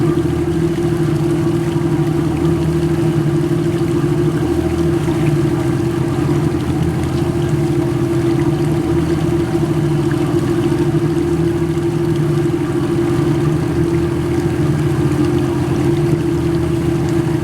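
Engines of a 1979 Bertram 38 Convertible Mark III boat idling, a loud, steady, close low drone with a constant hum and no pauses throughout.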